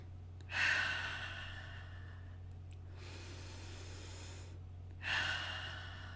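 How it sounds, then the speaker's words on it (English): Two deep, slow breaths, in through the nose and out through the mouth, close and soft over a low steady hum, each an airy exhale that fades gradually, with no talk. "Take a deep breath in through your nose and out through your mouth."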